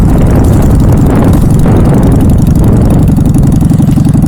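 A Honda Shadow motorcycle engine runs close and loud, with a steady, deep, throbbing idle rumble and a pulsing beat that stays even throughout.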